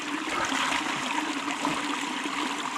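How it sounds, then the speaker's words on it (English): Water in a small, cold mountain creek rushes and gurgles steadily, close by and fairly loud, with no voices. "you're standing in a little mountain creek and it's 35 degrees?"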